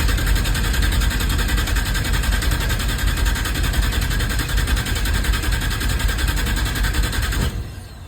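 An LS-swapped Ford F100 cranking over without firing, a loud, fast, even starter whir with rhythmic pulsing, held for several seconds before cutting off abruptly.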